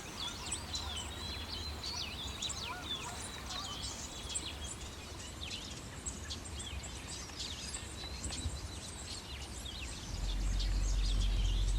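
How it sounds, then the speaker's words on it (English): White-throated sparrow singing in an early fall bog, faint and distant among scattered chirps of other birds, with steady low background noise that swells louder near the end. "White-throated sparrow"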